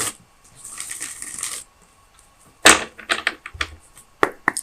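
Tarot cards are shuffled and handled at close range: a soft riffling stretch, a pause, then a sharp burst of shuffling followed by quick card snaps and slaps set down on a surface.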